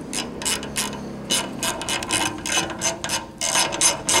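Hardware on an aftermarket door bracket being tightened on a CFMOTO UFORCE 1000 side-by-side, giving a run of quick ratcheting clicks in bursts with brief pauses, close by and fairly loud.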